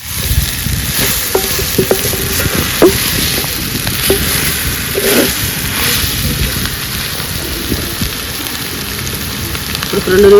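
Andhra-style country chicken curry (natukodi) bubbling in a pan as it is stirred, a loud continuous sizzle with a dense crackle and scattered spoon knocks underneath.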